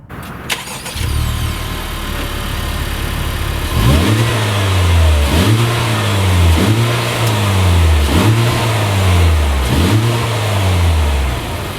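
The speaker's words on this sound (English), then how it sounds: "This car, as I mentioned, has 3 exhaust pipes, so you'd think it has some crazy, loud, cool sound." A 2017 Honda Civic Type R with a three-pipe exhaust starts and idles, then is revved in five evenly spaced blips, each rising and falling smoothly, close and loud.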